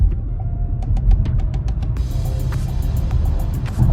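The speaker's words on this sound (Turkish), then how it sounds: "Hemen burada da 0-100 testi yapalım. Şu anda 0'da tam gazı kökledim." A Volvo XC40 Recharge pulling away at full throttle from a standstill during a 0-100 run, heard as a steady, loud low road and motor rumble inside the cabin with some faint rattles and knocks.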